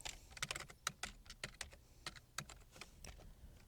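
Rapid typing on a computer keyboard, a quick irregular run of close, crisp key clicks with no voices.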